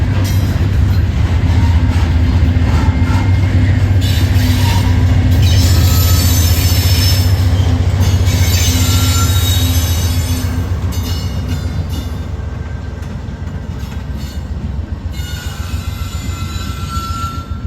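A CPKC freight locomotive shoving cars into an intermodal facility, with a loud continuous rumble of engine and wheels plus squealing and clanking rail noise, easing slightly toward the end.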